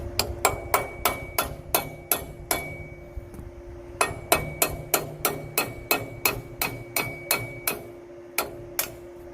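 A hammer drives a roll pin out of a metal part in a workshop, about twenty sharp, evenly spaced metallic strikes ringing close and loud in a steady rhythm with a short pause midway.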